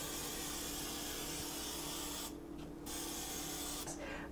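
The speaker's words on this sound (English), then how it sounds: "I'm going to take the misto, give it a few pumps with my yummy olive oil in there" Extra virgin olive oil misted from a pumped Misto sprayer, a steady broadband hiss lasting about two seconds, then a short pause and another brief burst near the end.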